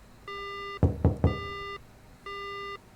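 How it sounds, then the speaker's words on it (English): Three sharp knocks on the glass door of a phone booth in the horror game Death Mark, loud and close, set between long steady electronic beeping tones that stop and start again. "Someone knocks on the glass door."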